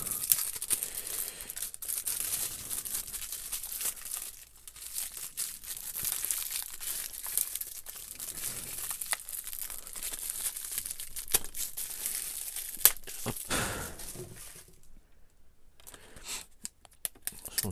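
Xbox One game cases for Titanfall 2 and Rocket League being unwrapped, with close, continuous crinkling and tearing of plastic film in irregular bursts.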